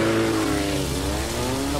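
Motorcycle engine in a video game, a brief continuous revving whine with a slight pitch dip midway, steady and fairly loud with no voices.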